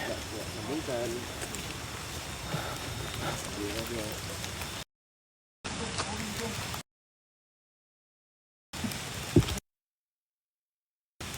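Steady rain falling outdoors on a hill trail, a dense hiss with soft patter that runs continuously, then cuts in and out in short bursts, with voices talking over it.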